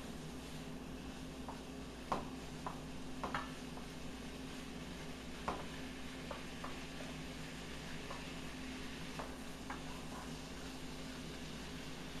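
Precooked shrimp heating in a pan give a low steady sizzle with scattered soft clicks and knocks of utensils against the cookware, no talking.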